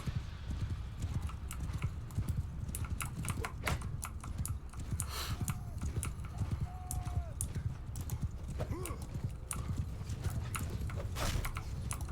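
Cavalry horse hooves clip-clop steadily in a battle video game, a dense rapid patter of hoofbeats that continues throughout. A brief whinny and faint voices sit under the hooves.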